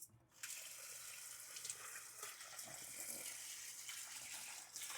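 A large batch of rice rinsed under running tap water, a continuous close splashing gush with some swirling and sloshing as the grains are worked, fairly faint overall and with no talk.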